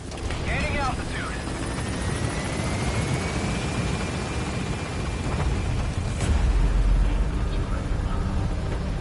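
A helicopter lifts off in Metal Gear Solid V's Afghanistan mission, its rotor roar steady and loud throughout with a rising engine whine, a brief radio voice early on and a heavier low rumble near the end.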